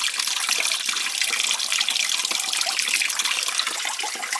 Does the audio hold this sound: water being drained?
yes